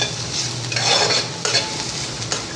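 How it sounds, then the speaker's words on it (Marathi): Misal ingredients roasting in a pan while being stirred, a steady close sizzle of hot oil under repeated scraping strokes of a spoon against the pan, with no talk. "हे सर्व पदार्थ असे भाजले ना खमंग की भाजीला आपल्या छान वास येतो, म्हणून हे भाजून घ्यायचं"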